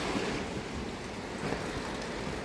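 Steady river water flows past a riverside spot along the Pamir Highway, a soft, even rushing wash with gentle surges and no voices.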